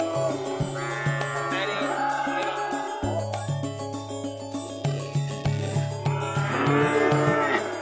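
Several Simmental cattle moo repeatedly, long low bellows overlapping one another, fairly close and loud, with no talking, at a cattle market in Plaosan, Magetan, East Java.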